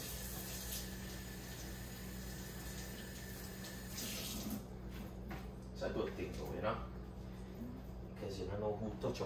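Water runs steadily from a kitchen tap as raw oxtail is rinsed in the sink, a constant close hiss with a few splashy surges while two people chat over it.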